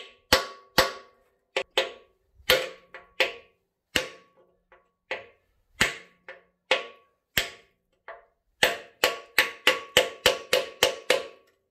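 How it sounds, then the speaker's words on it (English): Lump hammer driving a brass drift to knock bolts out of a Ferguson TE20 tractor wheel centre: about two dozen sharp metallic strikes, irregular at first, then a fast steady run of blows near the end, close and loud with no talk. "I'm just going to use that to knock the bolts out so we're not actually damaging the bolts themselves"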